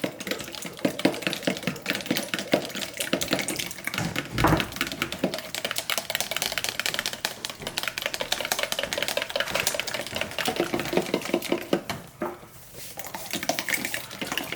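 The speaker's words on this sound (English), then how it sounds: "we're just gonna stir this up like this" A spoon stirs a simmering cheese sauce for shrimp mac and cheese in a pot, making continuous close-up clicking, scraping and bubbling that dips briefly near the end, with no voices.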